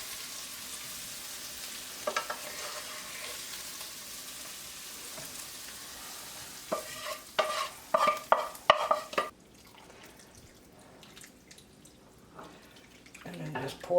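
Garlic and onion stirred in a pan with pork chop drippings, sizzling softly with scraping and clattering utensil strokes that grow busier midway, then quieter frying with a few drips toward the end.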